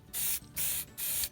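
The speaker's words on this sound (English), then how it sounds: "Test the can of spray paint off to the side," A rattle can of spray paint giving three short, even bursts of bright hissing spray, each about a quarter second long with brief pauses between, close and clear with no voices.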